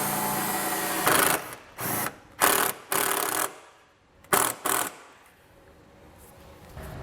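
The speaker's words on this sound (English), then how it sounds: "We're going to take a self-tapping screw and secure this to the metal portion of our vehicle." A power drill drives a self-tapping screw into the metal body of a 2018 Dodge Durango, in several short loud bursts of whirring separated by pauses, then a quieter tail.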